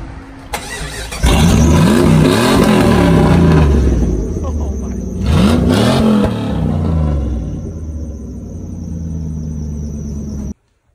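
Jeep with open headers starting and driving off, loud raw exhaust revving in two strong bursts before cutting out, with a voice talking underneath.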